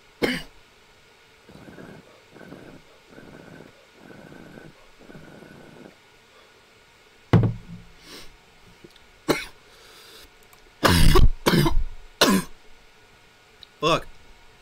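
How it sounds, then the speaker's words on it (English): Several loud, abrupt coughs burst out in a cluster late on, after a stretch of quiet breathing-like sounds and faint talk, close to the microphone. "Trying very hard not to cough. And I failed."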